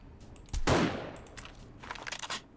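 Gunfire in the 7 Days to Die video game, one loud close shot with a long rolling decay, then fainter scattered rattles and clicks trailing off.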